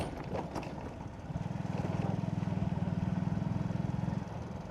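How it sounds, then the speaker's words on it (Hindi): A motorcycle labours over a rough, dusty off-road track on a highway ride, its engine throbbing in a fast, steady pulse that swells for a few seconds and then eases, close to the rider with wind noise around it. "खतरनाक स्ट्रगल करती हुई मेरी बाइक, यानी कि मेरी धन्नो।"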